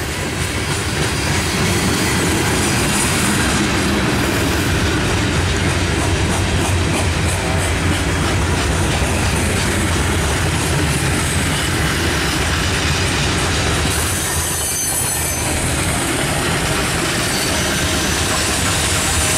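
A freight train bound for a sand plant in Clay Center, Ohio rolls past close by, loud and continuous, with rhythmic wheel clatter and occasional squealing throughout.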